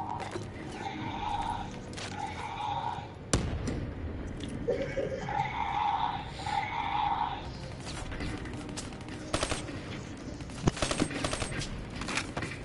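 A PS4 shooter game crackles with repeated gunshots and bursts of fire among scattered crashes and background game noise, with voices occasionally talking underneath.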